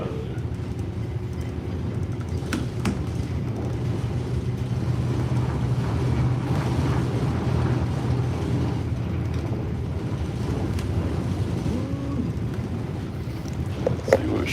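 A Mississippi River towboat's diesel engine revs while the boat pushes against strong wind. A loud, steady low rumble continues throughout, with wind noise buffeting the microphone.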